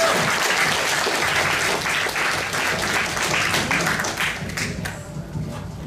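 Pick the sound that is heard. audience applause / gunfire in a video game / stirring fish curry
audience applause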